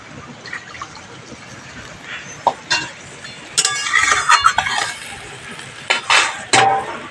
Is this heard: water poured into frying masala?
yes